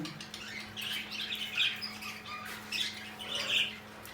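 A bird squawks in short harsh bursts, several calls spaced a second or so apart over a steady low hum, fairly close.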